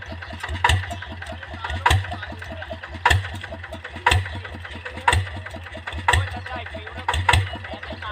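ZT 155 engine on a cassava-hauling vehicle runs steadily with a low, throbbing idle, punctuated by sharp regular knocks roughly once per second, close and fairly loud throughout.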